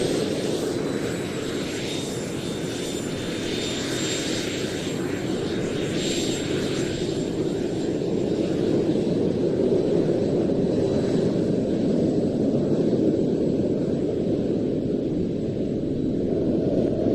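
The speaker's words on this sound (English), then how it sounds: "Several other aircraft powering up" Several aircraft engines powering up at an airshow, a steady loud droning roar with a sustained high whine, holding constant throughout.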